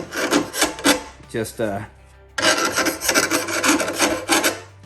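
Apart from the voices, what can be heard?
file rubbing burrs off a lawn mower blade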